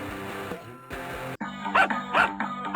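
A dog in a flash video game barks in a few sharp, yappy bursts over a droning electronic music loop, with no talking.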